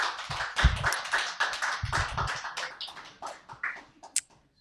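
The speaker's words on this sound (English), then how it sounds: "Another round of applause" A small audience at a reading session claps, a dense patter of hands that thins out and trails off into a few last claps before silence.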